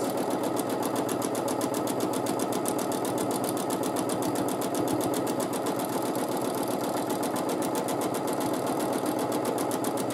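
A sewing machine free-motion quilting large swirls, its needle stitching in a fast, even mechanical pulse that runs steadily and close without pause.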